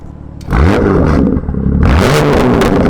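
BMW F82 M4 Competition with the exhaust valves open, revved hard twice in quick succession, loud close bursts of engine roar with crackling exhaust.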